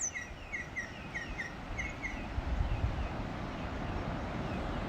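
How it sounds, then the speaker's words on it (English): Birds sing in repeated short chirping phrases at dawn on a coastal headland, over a steady outdoor rumble of the nearby sea. "listen to the gorgeous birds as well"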